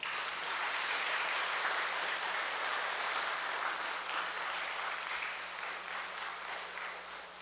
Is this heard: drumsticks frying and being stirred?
no